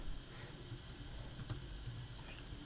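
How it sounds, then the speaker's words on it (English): Light keyboard typing on a computer during a Pixelmon Minecraft session, a steady patter of soft clicks over a low background hum, no voices. "if I type in the chat"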